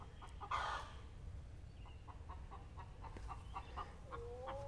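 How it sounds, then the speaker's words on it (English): Backyard chickens near a boat repair project give a series of soft, regularly spaced clucks at moderate distance over low background rumble, with one louder squawk near the start and no talking. "So there's my chickens."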